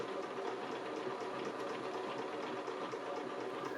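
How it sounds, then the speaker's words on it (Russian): A sewing machine runs steadily while stitching the cuff onto knitwear shorts, a continuous close whirring drone with a faint rapid mechanical patter throughout, no pauses or talk. "Проложу притачивающую строчку на швейной машине."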